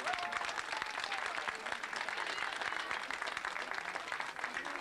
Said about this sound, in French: sous les applaudissements de notre public ici d'Arbois